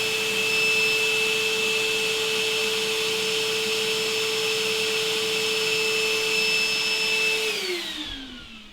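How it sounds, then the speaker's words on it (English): A vacuum cleaner serving as a miter saw's dust collector runs steadily with a loud whine and a strong motor hum, then spins down and fades at the end. "you can hear the vacuum cleaner cutting on now, and it'll run for a little bit"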